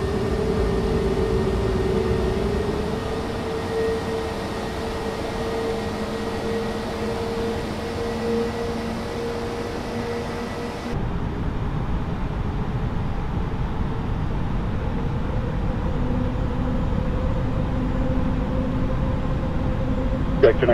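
An airliner's engines in Microsoft Flight Simulator 2020 spooling up on runway 25 right, a steady loud roar with rising tonal whine that shifts in character partway through, continuous and close.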